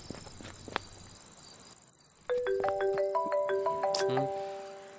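A phone rings with a repeating electronic melody that starts abruptly after a quieter stretch, fairly close and clear over faint background ambience and a few soft knocks.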